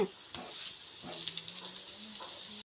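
Rice flour snacks, tapala chekkalu, fry in hot oil with a steady close sizzle and hiss, popping and crackling in small bursts, while a voice talks faintly.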